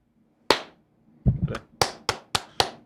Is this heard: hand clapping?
yes